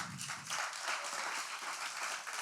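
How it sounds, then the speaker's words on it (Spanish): A congregation applauds its pastor at a church service, a dense wash of clapping that holds steady and fairly loud throughout, with no voices over it. "un fuerte aplauso a su pastor"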